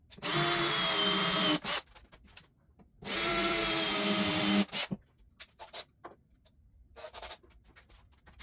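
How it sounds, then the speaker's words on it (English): A power drill drives screws through a panel into a wooden workbench frame from underneath: two long, loud continuous whirring runs, each about one and a half seconds, followed by clattering handling and quieter knocks. "drive screws through the panel into the frame from underneath"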